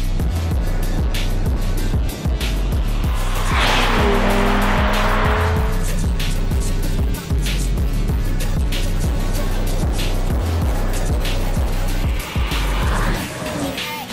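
A BMW M550d, Mercedes-AMG E53 and Audi A7 accelerating hard side by side in a race, producing a loud, sustained engine roar with brief tire noise, steady and close throughout.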